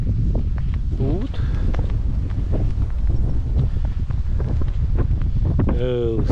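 Strong head-on wind buffets the microphone on a hiking trail in Hungary's Great Plain, a loud, continuous rumbling roar, with a person's voice breaking through at moments.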